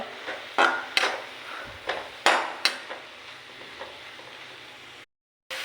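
A spatula stirs mushroom thoran in a pan, producing about half a dozen sharp knocks and scrapes against the metal over a faint sizzle, then a brief cut to silence.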